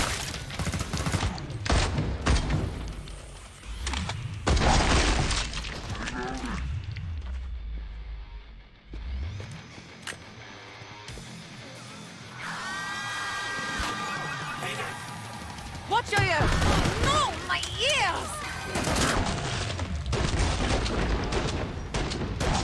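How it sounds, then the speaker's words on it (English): Pistol gunshots in the video game Killing Floor 2, sharp repeated shots and booms amid chaotic combat noise, loud and close. "My pistol that makes boom."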